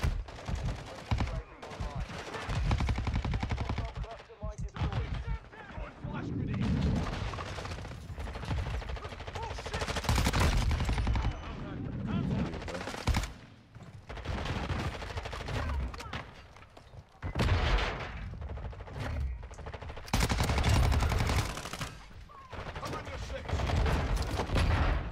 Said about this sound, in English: Just keep shooting, keep shooting. Keep shooting.